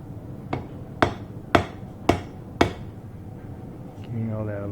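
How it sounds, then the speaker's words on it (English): Five sharp, evenly spaced hammer blows ring out as a naginata blade is pounded on an anvil in a home forge. A voice follows briefly after the strikes. "a little pounding here. Bit on the anvil"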